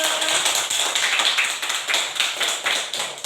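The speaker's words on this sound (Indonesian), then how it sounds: "kita berikan tepuk tangan dulu" A class applauds together, a dense run of many hands clapping at a steady pace, fairly loud and close, with no talking over it.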